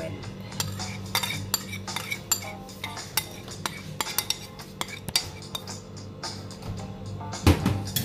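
Utensil stirring and scraping through a homemade sugar and olive oil body scrub in a bowl, with repeated clinks and scrapes in an uneven rhythm, close and moderately loud, no voices.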